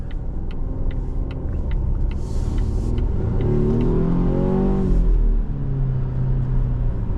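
A 2024 Volvo XC60 T8 Recharge hybrid turbo four-cylinder engine revs hard and climbs in pitch as it accelerates, a loud, close, rising roar that peaks and then settles into a steady rumble.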